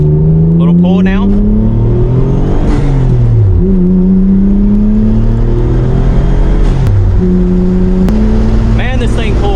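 A stock car fitted with new MaXpeedingRods coilovers accelerates hard along a rough country road; the loud engine note climbs steadily through the revs, dips briefly at gear changes, then pulls up again.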